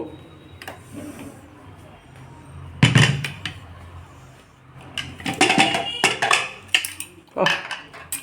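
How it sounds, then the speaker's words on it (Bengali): A metal lid comes off a cooking pot of mutton curry, giving a sharp clank followed by several clattering knocks of lid and pot, with a quieter stretch between the impacts. "এখন ঢাকনাটা খুলে দেবো"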